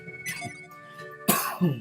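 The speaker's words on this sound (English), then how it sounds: "I think I caught the cough going around Imil." A person coughs into the microphone while playing Golden Sun, two short, close, harsh bursts with a brief pause between them.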